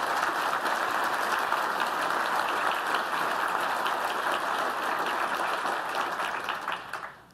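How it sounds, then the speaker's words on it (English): A conference audience gives a long round of dense applause for a presenting team, steady and loud for several seconds before tapering off quickly at the end. "So can we get a huge round of applause for the EF team?"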